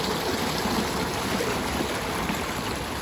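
A stream beside a hiking path on Mount Olympus in Greece rushes in a steady, broadband wash of flowing water, close and unbroken throughout.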